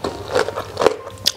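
Close crunching bites of emping crackers eaten with rice during a Nasi Padang meal, a few quick crisp cracks and chewing sounds in short succession.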